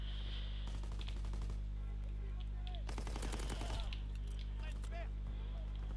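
Enemy gunfire in an online shooter game with an STG44, a couple of short bursts of distant shots with clinking sounds between them, under a player's excited talk.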